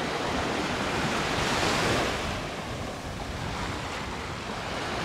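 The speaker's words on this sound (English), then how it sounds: "It's just listening to the waves." Sea waves wash onto the beach at Playa de Muro, a steady soft surf with gentle swells and light wind, heard alone without voices.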